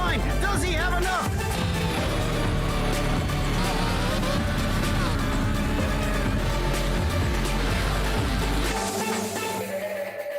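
Race cars roaring together in an iRacing eNASCAR Series race at Canadian Tire Motorsport Park, a loud, dense engine drone that holds steady and then drops away at the end, with a voice talking over it.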